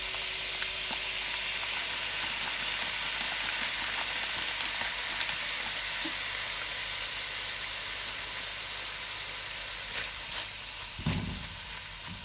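Curry powder frying in hot oil for Jamaican curry goat, a steady, close sizzle that hisses evenly throughout with a brief clatter near the end.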